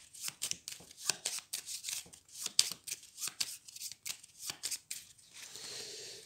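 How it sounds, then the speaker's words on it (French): Cards being drawn and handled one after another in a solo game of Dinoblivion, a dinosaur-themed card game: a series of short, close, papery swishes and flicks in an uneven rhythm, ending in a softer steady rustle, with no voices. "il faut que je pioche 4 cartes du coup encore"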